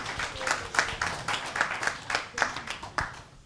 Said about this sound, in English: A round of applause for Didi.